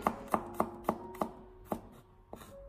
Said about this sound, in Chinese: 再准备几个大蒜子，同样的将它改刀切成薄片。